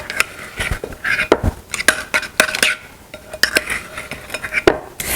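A utensil stirs garlic in a pan, with repeated sharp scrapes and clinks of metal against cookware, close and fairly loud, with no talk over it.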